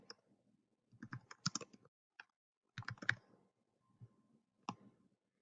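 Computer mouse clicks and keyboard typing, sharp separate clicks and short bursts of keys, close and quiet with pauses between.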